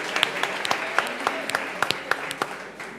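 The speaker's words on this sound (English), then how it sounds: "a round of applause to all those who won." An audience claps for award winners at a university event, a steady wash of applause with sharp individual claps standing out, fairly close and continuous for the whole stretch.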